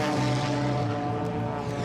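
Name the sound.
Canadair CT-114 Tutor jet aircraft in flight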